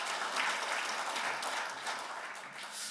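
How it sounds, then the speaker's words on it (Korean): A church congregation at a men's mission prayer meeting claps steadily in thanks, a dense, even burst of applause lasting the whole stretch without a break. "은혜로운 말씀 주신 우리 목사님께 다시 한번 감사 박수 드리겠습니다."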